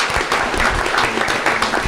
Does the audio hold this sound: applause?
yes